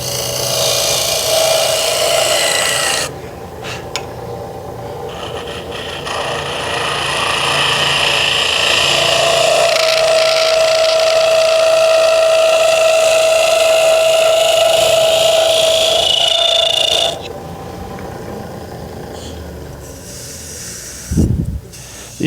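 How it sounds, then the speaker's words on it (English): A round nose scraper cuts wood on a lathe, producing a long steady hissing scrape with a whining tone that starts and stops in sections, ending with a brief thump. "Round nose scraper is always a tool that I use here."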